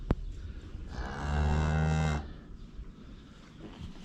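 Cow mooing near her newborn bull calf on a farm, one deep, close, drawn-out moo of about a second and a half, loud and alone over soft background rustle.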